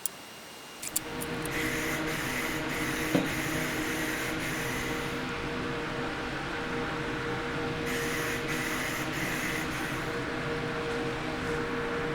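Paint sprayer starts after a brief quiet moment and then hisses steadily and loudly at close range, a continuous spray that lasts to the end with no talking.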